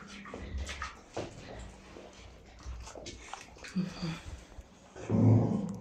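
Several dogs eat hungrily from a shared feed, with wet chewing, biting and snapping punctuated by low growls and an occasional whimper, close by and loudest near the end.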